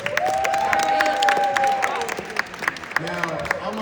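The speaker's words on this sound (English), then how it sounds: "I need y'all to clap for yourselves." Young people in a keynote audience at a youth empowerment event clap for themselves, with scattered sharp claps mixed with whoops, whistling cheers and voices carrying through the room.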